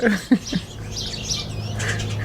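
A wild bird calls outdoors with a few short chirps near the start, followed by fainter, thinner tweets over a soft background of wind and rustle. No voices are heard.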